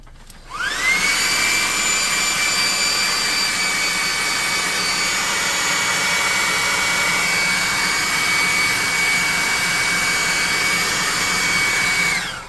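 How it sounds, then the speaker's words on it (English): A hot air gun blasts heat onto a foam-and-paint Shambling Mound tabletop miniature, its fan whirring up to a steady, loud whine that holds for over ten seconds before cutting off. "We're going to hit him with the hot air gun again real quick."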